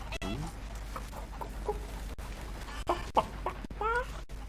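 Chickens cluck in scattered short bursts on a farm in Red Dead Redemption 2, moderately close over a steady low ambient hum with faint voice-like sounds.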